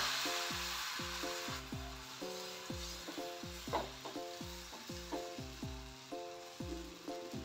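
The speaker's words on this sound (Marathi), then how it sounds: "आता आपण ह्याच्यावरती बॅटर टाकू." Rava oats dosa batter sizzles and crackles on a hot tawa, a steady frying hiss punctuated by repeated rhythmic scraping and clinking strokes close by.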